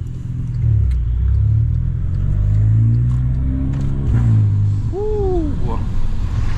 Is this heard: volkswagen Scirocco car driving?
yes